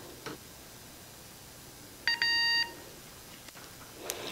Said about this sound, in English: And wait until it beeps.